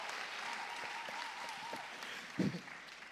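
A church audience applauds the guest KS Bloom, steady clapping under a faint tone, then a short louder burst near the end.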